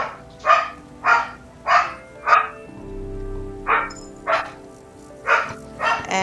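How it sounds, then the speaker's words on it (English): A dog barks outdoors, about eight sharp loud barks in an uneven rhythm with a brief pause partway through, faint patter of rain beneath. "And there she is out there barking at Chippy again."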